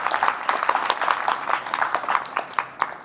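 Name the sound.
audience applause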